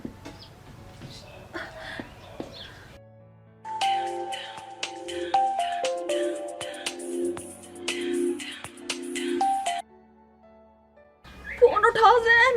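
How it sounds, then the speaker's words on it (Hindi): Unanswered mobile phone call ringing in a Pothwari drama scene, a tinny electronic ringtone melody playing for several seconds between quiet stretches, with a voice speaking before and after the ringing. "फोन उठाओ जैन। फिर कट गया"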